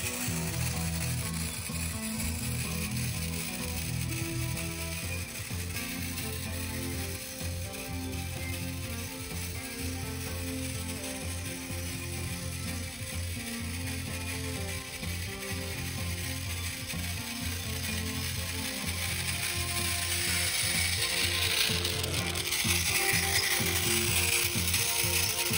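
Motorized Thomas and Friends Trackmaster toy trains racing on plastic track, giving a steady, faint, rapid ratcheting gear whir with dense clicking that continues throughout, with no speech.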